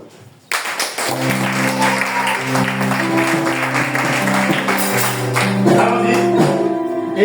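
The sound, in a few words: congregation applauding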